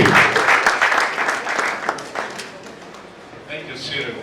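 An audience at a conference or public event on critical issues claps. The applause rings loud for the first couple of seconds, then fades, and a voice speaks toward the end.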